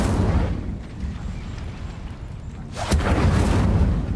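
A fire spell called Incendio is cast in Hogwarts Legacy, giving a loud roaring burst of flame that rumbles on and then swells into a second booming blast near the end.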